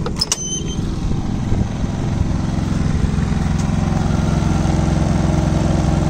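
A 4500-watt 120-volt portable generator runs steadily at a constant idle, its loud, even engine drone continuing without change. A couple of faint clicks come right at the start.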